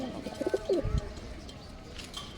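A pigeon coos nearby in a short run of soft, throaty calls, then the sound trails off into quiet background.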